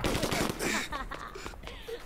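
Rapid gunfire crackles in 25 to Life, quick bursts of shots mixed with shouting voices and talk, fairly close but partly masked.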